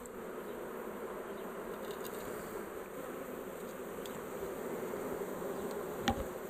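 Honey bees swarming around an opened hive during a walk-away split, a dense continuous buzz with occasional individual bees zipping close past, steady and moderately loud with no talking.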